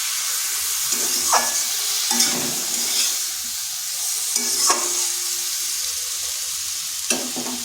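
Egg and flat beans sauté in a pan, sizzling steadily while a spatula stirs and scrapes in several separate bursts, close and moderately loud, with no talking.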